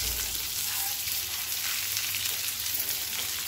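Chopped onion and pearl millet sautéing in a pan, a continuous close sizzle with light stirring underneath, steady and loud throughout with no talking.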